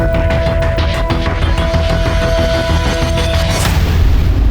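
A loud blast sounds in a tense setting, with a burst of sharp, crackling impacts and a sustained ringing tone before a final heavier thud near the end.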